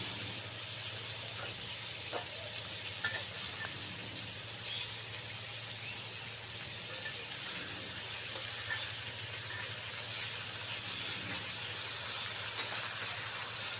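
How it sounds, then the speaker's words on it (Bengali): Chepa puli, a spicy Mymensingh fish-paste pitha wrapped in leaves, fries in a pan with a steady, even sizzle and hiss that runs unbroken throughout, with no one talking over it. "আর এই চেপার পুরিটা আপনি যত বেশি ভাজবেন তত বেশি খেতে মজা হবে"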